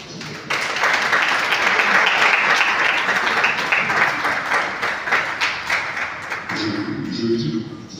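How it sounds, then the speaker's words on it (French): Loud, dense applause from a large audience at an African events-industry gathering, sustained for about eight seconds and easing slightly toward the end, with a voice briefly audible over it. "vous inviter en tant qu'Africain à, s'il vous plaît, applaudir pour"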